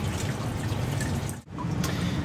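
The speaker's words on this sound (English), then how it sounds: "So I just need to let all the water drain out." Water drains out of a disconnected sump pump pipe, a continuous close splashing trickle with scattered drips that briefly pauses partway through, then resumes.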